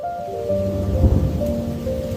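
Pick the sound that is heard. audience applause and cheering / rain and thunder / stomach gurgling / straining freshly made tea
rain and thunder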